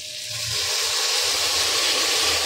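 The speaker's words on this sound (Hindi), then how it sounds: "आधा कप मैंने पानी डाला है," A steady broad hiss and rush as about half a cup of water hits a hot pot of fried tomatoes and spices, continuous and fairly loud throughout with no talking.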